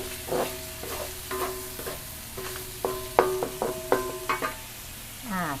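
Garlic and egg stir-fried in a pan for a fermented pork and glass noodle dish: a close spatula scrapes and clanks with ringing tones over a constant sizzle.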